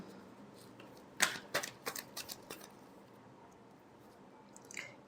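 A deck of tarot cards being shuffled by hand gives a short, close run of crisp riffling clicks and taps in the middle, then quiet handling with no talking.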